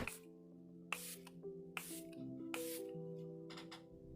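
Makeup setting spray misted over a face, several short hissing spritzes spread across a few seconds over a quiet, humming background.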